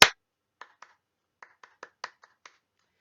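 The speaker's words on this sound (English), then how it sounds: "Rhythm is a varying pattern of sounds that we can copy by clapping." Hand claps in an uneven rhythmic pattern, about nine crisp, fairly faint claps spread across a few seconds in a quiet room, with no talking.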